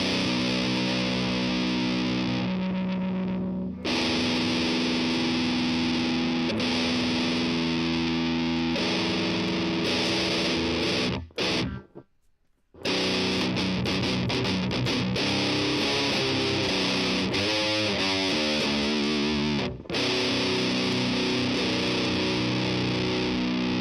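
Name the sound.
distorted electric guitar lead tone from the Tonebridge iOS app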